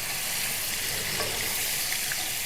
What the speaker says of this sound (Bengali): এবার আমি দিয়ে দেবো পনির টুকরো করা পনির ভাজার জন্য